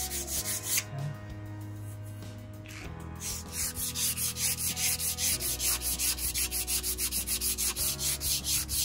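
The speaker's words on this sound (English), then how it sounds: "just this piece of sandpaper is going to blend it in" Sandpaper rubbed by hand over a wood joint, close and rhythmic back-and-forth scratching strokes that start hesitantly and settle into a fast, even cadence.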